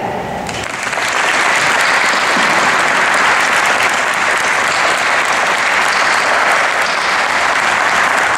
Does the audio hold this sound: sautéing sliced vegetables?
no